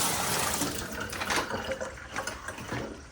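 Water runs steadily from a tap onto a rag, a close, continuous splashing hiss that eases slightly toward the end, with no talk.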